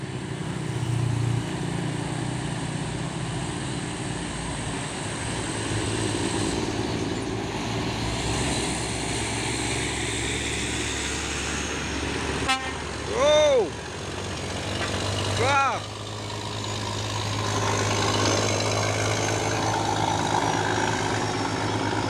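A Scania trailer truck running empty rolls past with a steady engine rumble, and two short, loud horn blasts ring out close by partway through, with people exclaiming over it.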